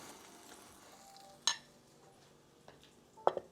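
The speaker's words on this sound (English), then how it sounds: "you'll hear it start to sizzle" Faint, steady sizzling of a grilled cheese sandwich in a pan, with a soft clink partway through and a couple of sharper utensil knocks near the end.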